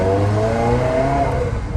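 A 2001 Ferrari 360 Spider with a 6-speed manual and sport exhaust revving up under acceleration, loud and close, with a deep, throaty exhaust note rising in pitch.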